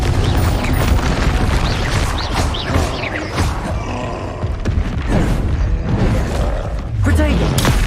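Confringo fire spell explosions in Hogwarts Legacy, loud, dense booming blasts and roaring rumbles over continuous combat noise, with voices mixed in.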